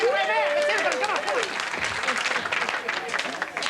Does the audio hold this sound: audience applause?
yes